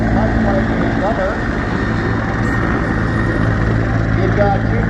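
A steady, loud rotor and turbine roar from a military helicopter of 403 Helicopter Operational Training Squadron flying at Air Show Atlantic in Debert, with an announcer talking over it.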